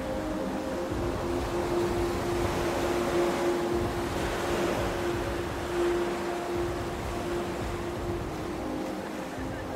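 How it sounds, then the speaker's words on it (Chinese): Ocean waves at a seaside viewpoint with a grassy lawn, heard as a steady broadband wash with wind, fairly loud and continuous, with a low engine-like hum running underneath throughout. "然后那边呢就是大海"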